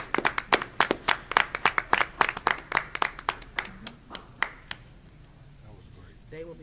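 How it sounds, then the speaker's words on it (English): At a Trotwood-Madison City School work session, a small group claps in distinct, fairly close beats that gradually thin out and fade, followed by a voice speaking at the end. "another round of applause?"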